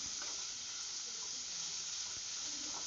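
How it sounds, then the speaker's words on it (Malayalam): Onions and green chillies sauté in a hot pan for potato bonda filling, giving a continuous close sizzle and crackle with no talking. "ഇനി ഇതൊന്ന് നന്നായിട്ട് വഴറ്റി കൊടുക്കണം."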